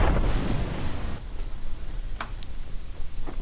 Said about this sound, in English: Oh, splash down into the ocean.